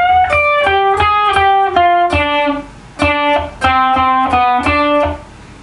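Electric guitar lead lick from a rock cover of a 1950s rock and roll song, starting with a raked strum into picked double-stop notes in quick rhythmic bursts, loud and close with slight distortion, alone without speech.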